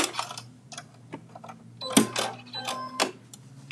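A sewing machine stitches back and forth across the zipper end of a fabric bag, giving short bursts of mechanical whirring and clicking close by with small pauses between them.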